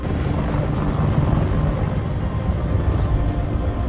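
An Apache attack helicopter in a war film set against enemy mortar positions produces a loud, steady low rumbling engine and rotor drone that stays constant throughout, with no speech over it.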